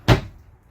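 A single short wooden thump of an RV drawer shutting, close and sharp with a quick decay into quiet.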